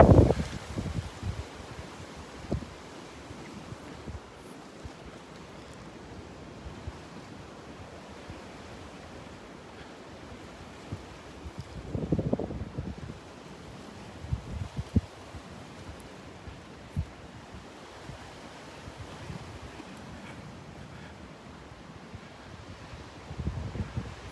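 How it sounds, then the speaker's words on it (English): Strong northeast gusts of 20 to 30 mph sweep across Delnor-Wiggins beach in a steady rushing roar mixed with distant surf, with a few louder gusts buffeting the microphone near the start, middle and end. "Some pretty strong gusts of wind coming through here."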